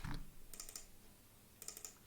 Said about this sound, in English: So again, I'm just double clicking